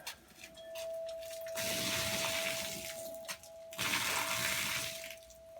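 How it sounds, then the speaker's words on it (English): Water poured into a Dollar Tree craft-supply project, a steady broadband rush of flowing liquid in two loud stretches with a brief break between, alongside a faint steady tone. "We're putting water in now."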